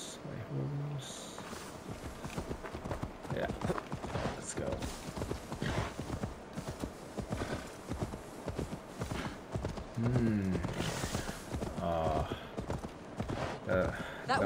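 Horse hooves clip-clop steadily in Assassin's Creed Valhalla. A continuous rhythmic trot runs close by under frequent in-game dialogue, with a brief whinny-like sound partway through.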